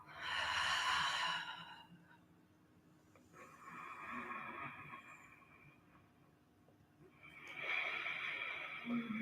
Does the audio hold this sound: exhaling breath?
yes